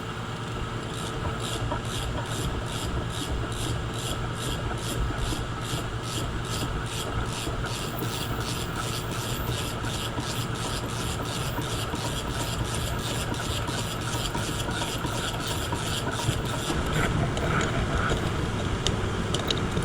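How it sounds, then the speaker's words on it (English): Bolts being tightened on the mast step of a catamaran, a continuous rapid ratcheting and grinding rasp that keeps up steadily throughout, close and fairly loud. "Tightening these 4 bolts probably took me about an hour and a half."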